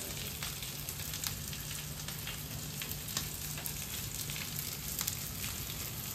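Red chillies tossed into hot oil as a tadka for paneer 65, giving a faint, even sizzle and crackle that holds steady from start to finish with no talking.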